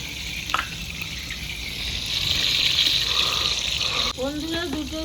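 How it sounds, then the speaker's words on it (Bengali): Garlic frying in oil in a home kitchen, a steady close sizzle that swells and continues, with a voice speaking briefly near the end. "দিয়ে দিলাম এই রসুন আছে আমি এটা ভেজে নেবো"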